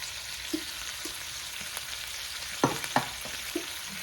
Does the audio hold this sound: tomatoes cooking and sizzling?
yes